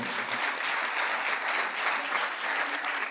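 A crowd claps steadily and warmly, a dense even patter of applause that holds throughout.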